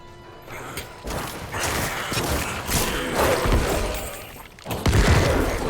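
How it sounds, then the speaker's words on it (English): Corpse explosion attack in Diablo IV, a run of loud thumping, crashing bursts over busy game clatter, with a sharper heavy blast near the end. "See that corpse explosion."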